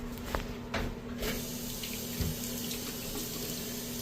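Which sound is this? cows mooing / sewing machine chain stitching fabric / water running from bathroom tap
water running from bathroom tap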